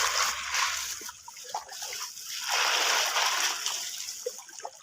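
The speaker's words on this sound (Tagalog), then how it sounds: "hugasan yung bato. Kasi may mga ano siya, may mga putik," Gold ore rocks being washed of mud and soil, with water splashing and pouring in uneven surges, close up, swelling louder in the middle; no talking.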